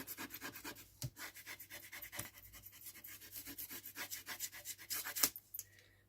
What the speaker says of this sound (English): Then burnish it down carefully so it doesn't move.